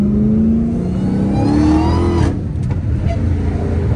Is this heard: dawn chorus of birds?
no